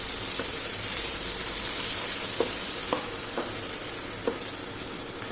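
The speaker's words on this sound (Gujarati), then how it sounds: "હવે બધું પ્રોપરલી મિક્સઅપ કરી દઈશું" Ingredients stirred and frying in a pan for Punjabi paneer lababdar, with cashews, melon seeds and chillies, give a steady close sizzle broken by a few soft scraping stirs of the spoon.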